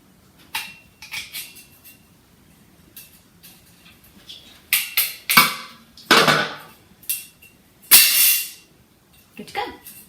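Cutters snip and crunch while plastering a conservatory, sharp irregular clicks and scraping bursts up close, some louder and longer, amid quiet pauses.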